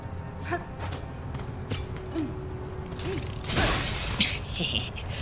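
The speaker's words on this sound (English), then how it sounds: "I like their clicky sounds that they make." Enemies in Hollow Knight: Silksong make mechanical clicking and ratcheting noises, with a few chirps and a brief crash, heard up close in short irregular bursts.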